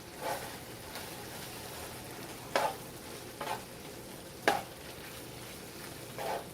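A chicken, tomato and spinach pasta is mixed in a pan after cooking on medium, a low steady sizzle broken by a handful of distinct spoon scrapes against the pan, spaced about a second apart.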